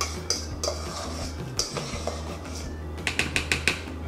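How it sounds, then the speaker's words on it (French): Guacamole spooned into a plastic dish, with scattered close clicks and taps of the spoon on the container, then a quick rapid run of light knocks near the end. "On vient mettre la guacamole dans un plat en plastique."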